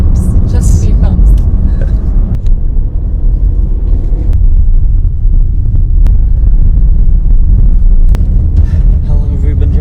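A car cruises along a smooth paved tar road in rural Brazil, giving a steady, loud low rumble with wind buffeting the microphone throughout, and brief voices break in now and then.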